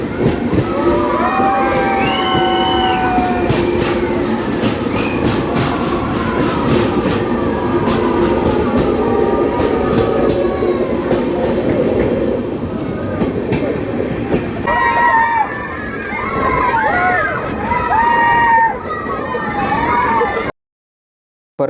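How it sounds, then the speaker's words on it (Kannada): A goods train passes on a railway line with a loud, continuous rumble and rhythmic wheel clatter, high metallic squeals rising over it, before ending abruptly. "ಇದು ಕ್ರಾಸಿಂಗ್ ನೋಡಿ, ಗೂಡ್ಸ್ ಟ್ರೈನ್ ಕ್ರಾಸಿಂಗ್ ತುಂಬ ಇರುತ್ತೆ"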